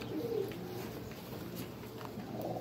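Pigeons coo softly in a loft in Oklahoma while birds are being vaccinated, low murmuring calls over a steady faint background hum, with no talk.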